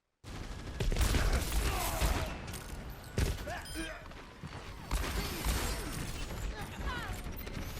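Gunfire from Cassidy in Overwatch on the Hanamura map: dense bursts of shots with impact crashes and other game effects, loud and nearly continuous, with voices talking over the action.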